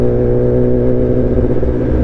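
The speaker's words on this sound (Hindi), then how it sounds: "क्योंकि सुपर स्पोर्ट बाइक चला रहा हूँ मैं आज।" A Kawasaki ZX-10R sport motorcycle engine hums loudly and steadily at close range, a throaty sustained drone with no talking.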